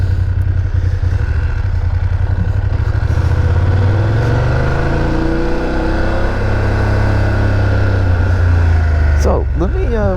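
A BMW F750GS motorcycle engine runs on a test ride, a close, steady throbbing rumble with wind noise that shifts pitch as it accelerates, while a voice talks over it.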